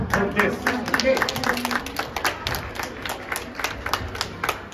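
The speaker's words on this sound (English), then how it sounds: "Happy clap for this" Audience clapping at a junior section graduation ceremony, a steady patter of many hands with sharp individual claps standing out, while a voice speaks over it near the start.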